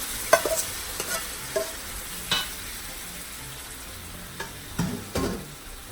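Chopped red onion fries in hot oil, stirred now and then, giving a low steady sizzle broken by scattered scraping clicks and a few louder utensil knocks, close and fairly quiet with no talking.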